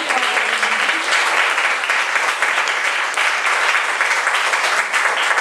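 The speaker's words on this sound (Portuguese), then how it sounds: "Vamos dar uma salva de palmas." Congregation at an evening Pentecostal church service breaks into loud, sustained applause, a dense, even roar of many hands clapping close by.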